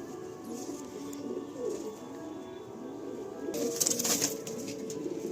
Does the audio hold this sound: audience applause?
no